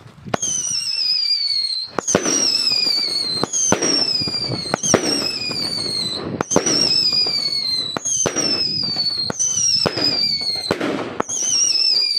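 A 20 mm whistling firework launcher fires repeatedly outdoors: about eight sharp launches, each followed by a falling shriek and a loud bang, spaced roughly every one to two seconds over a constant wash of noise.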